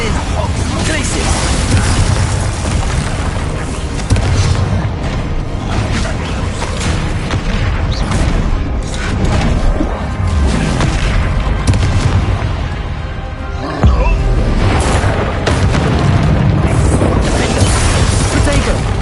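Glacius ice spell effects in Hogwarts Legacy on PS5 burst among repeated booming, crashing combat impacts, loud and continuous with a voice casting spells over them.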